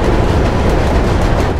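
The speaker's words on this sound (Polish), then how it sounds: "Pociąg, pociąg, szybko!" A train passes in the video game Mirror's Edge, heard as a loud, dense, continuous roar and rumble that fills the whole moment, with no voices.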